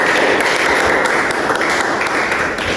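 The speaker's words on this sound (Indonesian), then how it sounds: "Tepuk tangan" Dense, steady applause from a classroom audience for a student group finishing its presentation, a continuous wash of clapping at close range with no talk over it.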